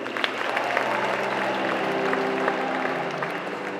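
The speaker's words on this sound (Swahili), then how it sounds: "Tuwapigie makofi wazazi jamani" A church crowd applauds the parents of a priest at a thanksgiving Mass, with continuous, fairly even clapping filling the space and a faint sustained tone underneath.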